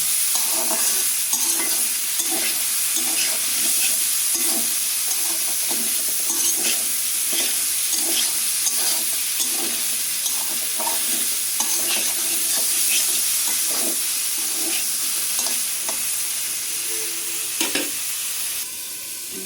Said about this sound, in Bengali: এই আলুর সাথে দুন্দলটা একাত্রে ভাজে নেব।